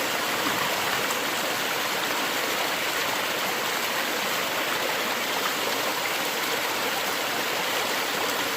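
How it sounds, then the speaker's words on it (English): A mountain stream flowing, the last running water on the mountain: a steady, even rush of water close by, continuous throughout with no talk. "this is the only spot we can find on this mountain that still has water flowing"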